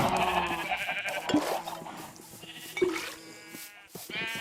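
Sheep bleat in a farm pen in a jungle-themed survival video game, a few short bleats over a busy, layered backdrop of game ambience and music.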